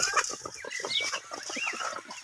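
Chickens on a farm cluck steadily in a close, lively flock, with a rapid run of short clucks and a few higher squawks, no voices heard.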